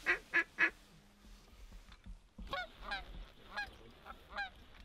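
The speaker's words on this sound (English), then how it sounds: "Ducks up top." Ducks in flight overhead during a duck hunt call out with a burst of three sharp honking quacks, then a looser run of softer quacks and chatter at a moderate distance over a quiet outdoor background.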